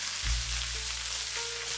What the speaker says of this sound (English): Add the mushrooms and the bamboo shoots. Briefly stir.